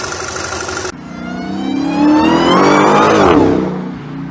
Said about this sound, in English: now that you've heard what I hear when I start the car